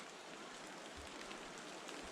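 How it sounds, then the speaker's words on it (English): Steady rain falls outdoors near a river, a dense, continuous hiss with a faint low rumble of flowing water beneath it, with no voices. "It's raining now."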